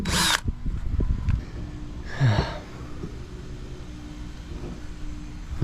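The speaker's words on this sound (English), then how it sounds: "Gotta drill some holes to match those holes." A power drill bores holes in a 2011–2014 Hyundai Sonata taillight assembly, heard as a short whir at the start and another brief burst a couple of seconds later, close by, with quiet handling noise in between.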